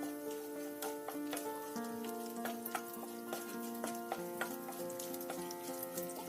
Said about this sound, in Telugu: ఇవి కూడా లో ఫ్లేమ్ మీద దోరగా వేయించుకోండి.